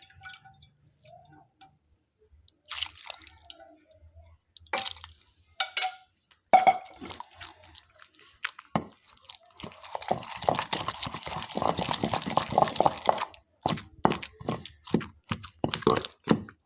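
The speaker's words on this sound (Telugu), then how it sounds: "చట్నీలో కొద్దిగా వాటర్ వేసుకొని దంచుకుందాం" Ridge gourd and sesame chutney with a little water pounded in a stone mortar: irregular thuds and wet, squelching knocks that come in bursts, with a denser run of pounding in the middle and no talk.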